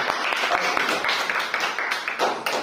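A classroom audience at a maths competition claps for a contestant, a short, busy patter of hands with a few sharper slaps, fairly close and lasting only a couple of seconds, with some voices mixed in.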